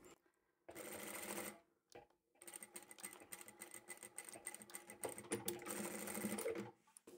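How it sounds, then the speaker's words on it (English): A domestic sewing machine stitches a zippered pouch in white thread, running in loud, close bursts with brief pauses in between and a rapid, even mechanical chatter. "I'll take this to the machine and sew straight over there."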